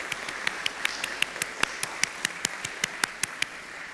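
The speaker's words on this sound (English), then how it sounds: "let's give them one more round of applause" A round of applause at a community program, sounding as a fairly quiet, evenly spaced run of sharp handclaps, steady and few in number.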